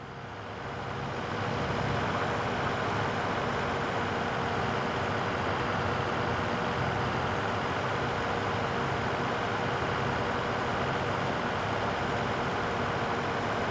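Steady engine drone of a BMW car in a farming simulator game, a constant loud broadband roar that rises in the first seconds and holds evenly throughout.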